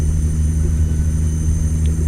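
An Aussie Tuned DD60 truck engine in American Truck Simulator drones steadily at constant revs, a loud, close, low rumble with no change in pitch.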